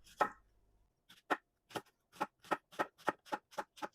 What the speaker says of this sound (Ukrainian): Також мені знадобиться цибуля, її нарізаю на кільця або півкільця.